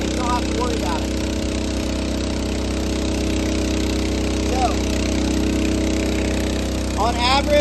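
Gasoline trash pump engine running at a steady drone throughout, loud and close, with someone talking over it.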